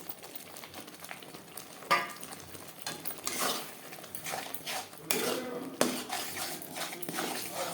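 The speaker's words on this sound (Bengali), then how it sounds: "মশলার সাথে মটরশুঁটি বেশ ভালো করে মিক্স করে দেব" Ground peas being stirred into spices in a pan, heard as scraping of a utensil against metal in uneven strokes over a low sizzle, close by and fairly quiet, with no speech.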